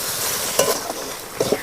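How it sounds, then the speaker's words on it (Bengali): Turmeric, chili, coriander, fennel powder and salt sautéing in oil, a continuous sizzle with a few brief scrapes and taps of the spatula. "মশলা কষানো হয়ে গিয়েছে"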